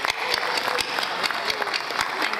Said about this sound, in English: Please join me in giving all of them a big applause